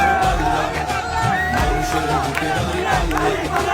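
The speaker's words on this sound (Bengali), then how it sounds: "লঞ্চের ডেকে দাঁড়িয়ে স্লোগান দিচ্ছে তরুণরা" Crowd of young people chanting election slogans while standing on a launch deck during an election rush, a loud, continuous mass of raised voices and cheering with rhythmic shouted bursts, close and dense throughout.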